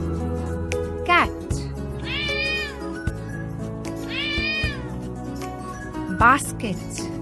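A cat meows two times clearly and then once more, mid-loud against a continuous music bed in a children's learning piece about animal homes.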